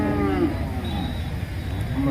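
Cows bellow at the big Manapparai cattle market, with a long moo at the start and another toward the end over a dense, busy crowd murmur and outdoor noise.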